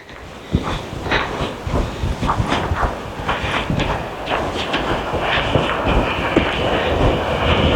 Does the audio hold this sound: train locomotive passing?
yes